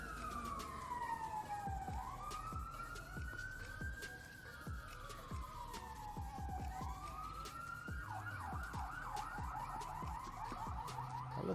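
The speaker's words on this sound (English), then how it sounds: "We just got an ambulance going on the street." An ambulance siren wails through rising and falling tones, then switches to a faster yelp, passing steadily along a street with traffic noise beneath it.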